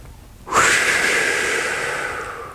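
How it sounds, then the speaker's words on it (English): A single deep breath taken as a lung-cleansing breathing exercise, a sharp close inhalation starting after a brief silence and drawn out steadily for about two seconds, breathy and slightly wheezy, with no talking. "deep breathing."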